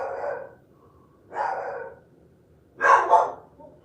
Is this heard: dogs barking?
yes